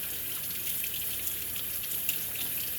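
Water runs from a kitchen sink faucet in a steady, fairly loud, continuous stream, close by, with no talking.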